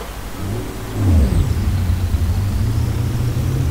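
A bus engine in Euro Truck Simulator 2 on a mountain road revs up steadily and holds a loud, continuous low drone, rising in pitch then settling, with no talking over it.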